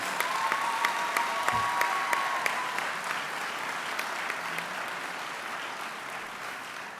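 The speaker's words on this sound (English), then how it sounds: "And I truly think that deserves a round of applause." A crowd at an Omega Psi Phi fraternity gathering gives sustained applause, an even roar of many hands with a few crisp nearby claps, fading slightly toward the end with no speech over it.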